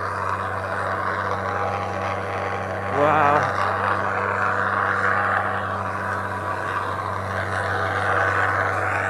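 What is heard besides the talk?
trucks struggling loudly on a road in Türkiye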